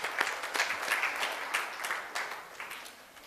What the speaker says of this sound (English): Let us give another big round of applause for his speech.